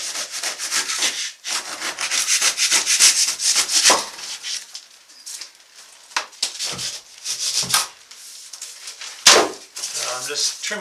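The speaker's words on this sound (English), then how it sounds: "I'm just trimming off the excess spray foam" Knife or blade cutting and rubbing through cured spray foam insulation in a tiny house wall framed with 2x4s, giving irregular scraping and tearing strokes with brief pauses and a few sharper snaps, close and fairly loud.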